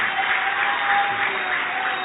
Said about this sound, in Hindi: तुम लोग तालियां बजा रहे हो